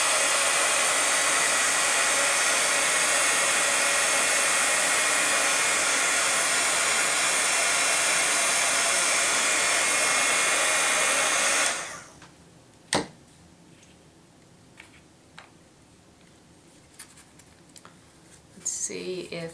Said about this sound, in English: I'll dry this and let you have a look what it looks like.